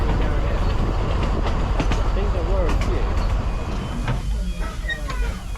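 A Vale of Rheidol Railway train runs along the track beside the Cambrian main line, with a loud steady rumble, clicking wheel beats and squealing flanges, easing off slightly toward the end.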